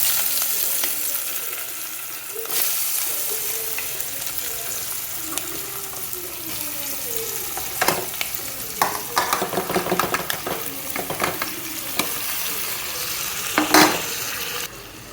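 Onions and turmeric sizzle steadily in hot oil for a tempering for chickpea curry, close by, with scraping stirs and clinks of a spoon against the pan breaking in repeatedly.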